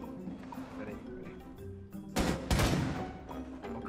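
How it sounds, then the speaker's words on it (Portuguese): Gunfire from an enemy in the video game Rainbow Six, two sharp loud shots about a third of a second apart near the end, heard over a player's ongoing talk and game background. "O cara atirou."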